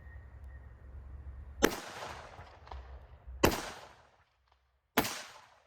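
Three sharp rifle shots from a Cobalt Banff Pro fitted with a muzzle compensator, fired outdoors on a range, each a loud crack with a ringing decay, spaced unevenly over several seconds.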